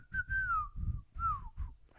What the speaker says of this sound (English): I used to whistle that a lot with the grandkids